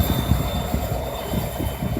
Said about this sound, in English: here's a real live coal train coming into the plant where I work.